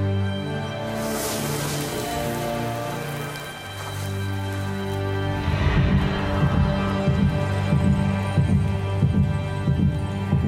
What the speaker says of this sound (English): do I have to listen to my heartbeat for the rest of the time?